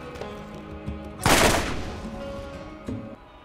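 Incendiary Rifle from the video game Borderlands fires a single loud close burst with a short fiery roar that fades out, surrounded by softer clicks and game sounds.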